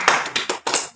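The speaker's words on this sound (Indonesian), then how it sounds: "kita berikan tepuk tangan untuk kelompok 1" Classroom applause for a student group after a presentation in a university teaching practice session, heard as a few short separate claps spaced apart, close and moderately loud, with no talking.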